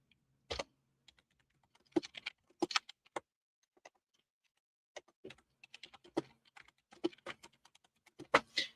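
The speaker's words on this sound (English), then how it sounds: "You can hear my typing." Quiet clicks of typing on a computer keyboard, coming in irregular bursts of keystrokes with short pauses between them, close and fairly faint.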